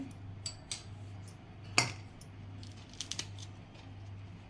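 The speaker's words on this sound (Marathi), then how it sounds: "हे आता मिरचीचे तुकडे करून घालते" A few sharp cutting snips of thick chilies on a kitchen counter, one louder chop in the middle, then a quick cluster of three short cuts, over a low steady hum.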